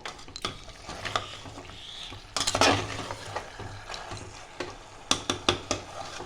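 Potatoes frying in a pan while being stirred for a mutton curry, giving a steady soft sizzle with repeated scraping and clinking strokes of a spoon against the pan, close up.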